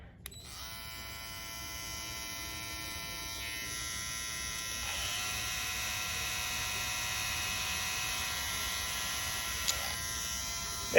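A Babyliss FX3 and an Andis GTX-EXO hair clipper with rotary motors run with a steady, close electric buzz and whine. It holds constant for several seconds with slight pitch shifts as one clipper gives way to the other, and no one speaks.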